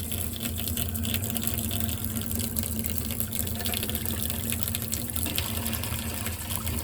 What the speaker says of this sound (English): That's just water that was in the faucet.